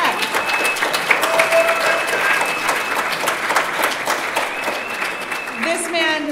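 An audience applauds a keynote speaker at a drug policy conference, steady clapping filling the room for several seconds before a voice begins at the end.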